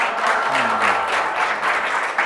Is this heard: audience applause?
yes